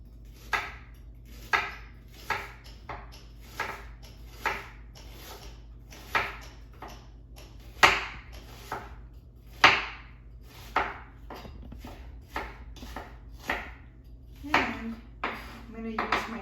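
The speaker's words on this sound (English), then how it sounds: "I'm gonna cut this onion in half, and I'm just gonna make slices." A knife slices an onion on a cutting board to make rajas con crema, giving a run of crisp, close taps and chops in an uneven rhythm, each cut landing with a light knock on the board.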